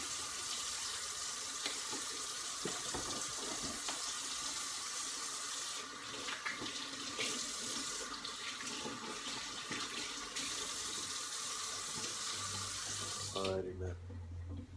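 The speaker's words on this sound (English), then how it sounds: "One second, let me wash my hands." Tap water runs into a sink as hands are washed at home, a steady broadband splashing that holds for most of the stretch before the faucet shuts off near the end, with a few faint household knocks.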